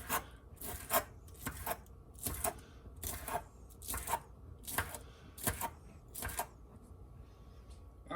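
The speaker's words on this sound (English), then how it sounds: "Now that the onions have been washed, we're going to trim them up." Knife strokes trimming washed onions on a cutting board, about a dozen crisp, evenly spaced scraping cuts roughly every half second, close and fairly quiet with no talking.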